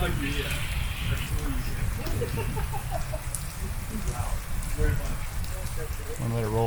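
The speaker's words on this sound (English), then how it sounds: "the sky opened up and the rain poured down for quite a while" Heavy rain pours down in the Kalahari as a steady, dense wash of noise that lasts throughout, with birds and voices faintly audible beneath it.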